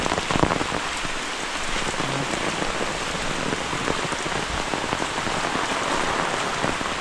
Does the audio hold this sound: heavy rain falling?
yes